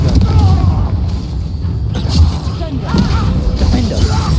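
A Confringo blast curse in Hogwarts Legacy combat, heavy booming impacts and crashing thuds in a loud battle mix, with occasional voices.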